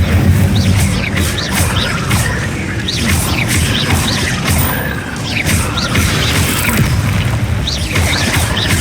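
Incendio fire spells in Hogwarts Legacy burst repeatedly amid a loud, chaotic combat din, with rumbling booms, crashes and sharp whooshing flares over a heavy low background.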